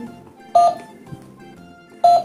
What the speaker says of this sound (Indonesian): Oh ini telepon-teleponan ya bang.